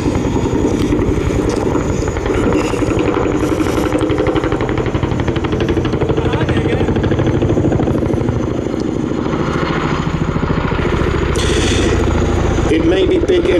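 A Boeing-Vertol CH-47 Chinook twin-rotor helicopter flies at the ILA 2016 air show, its loud, heavy rotor thudding and engine roar filling the air continuously while an announcer talks over it.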